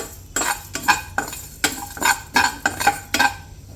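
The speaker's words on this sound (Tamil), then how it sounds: "இந்த இன்க்ரீடியன்ட்ஸ்லாம் நம்ம ட்ரை ரோஸ்ட் பண்ண போகிறோம்" Dry spices are roasted and stirred in a pan on high flame, heard as a series of about eight rhythmic scraping, rattling strokes of a spoon against the pan, close and fairly loud.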